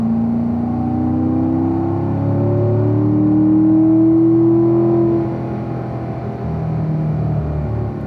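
A race car on the Spring Mountain Raceway circuit accelerates hard and shifts up to third gear, its loud, close engine note climbing steadily, dipping briefly at the shift, then pulling again with no voices over it.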